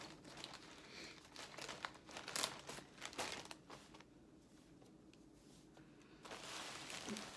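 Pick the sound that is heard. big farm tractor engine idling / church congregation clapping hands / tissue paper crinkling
tissue paper crinkling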